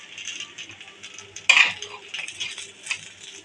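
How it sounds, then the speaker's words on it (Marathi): A spoon scrapes and clinks against a metal appe pan while flipping dal-and-rice appe, with one sharp metallic clink standing out midway amid softer stirring scrapes, close and moderately loud. "तर अशा प्रकारे आपण चमच्याच्या सहाय्याने आपले अप्पे छान असे पलटून घ्यायचे।"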